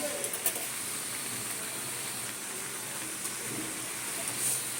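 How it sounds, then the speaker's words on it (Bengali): Water boiling in a cooking pan, ready for lentil fritters in an ash gourd curry, gives a steady, soft hiss with a faint bubbling texture. It stays low and constant throughout, with no talk. "এই দেখো এটা ফুটছে তো"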